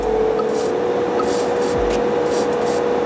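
A portable airbrush, running on high, sprays Tamiya paint in a loud, continuous hiss, with short bursts of brighter airy spray rising over the steady motor drone.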